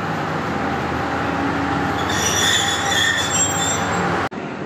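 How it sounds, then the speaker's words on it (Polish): A Gemeran passenger train pulls into Zvolen osobná stanica station in Slovakia, its wheels squealing loudly and continuously over a heavy rolling rumble, close by, before the sound cuts off abruptly. "Wjeżdża opóźniony około 50 minut, pociąg Gemeran, racji Kosice, z Wolenia osobna stanica."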